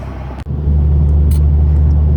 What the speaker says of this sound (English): We're chugging along here 30 miles an hour.